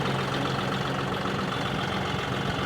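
A tractor engine idles steadily, a continuous low rumble with a constant drone throughout and no voices over it.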